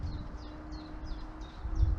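Repeated short high chips from a great tit, about six evenly spaced calls, fairly faint over a steady low hum and outdoor background.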